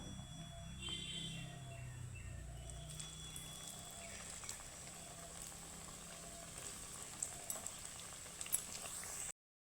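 Homemade potato patties fry in hot oil with a steady, even sizzle that runs the whole time, with a few sharper crackles and pops near the end.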